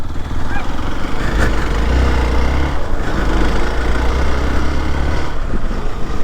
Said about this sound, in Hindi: मैं तो सोच रहा था चालू ही नहीं होगी बाइक, हो गई यार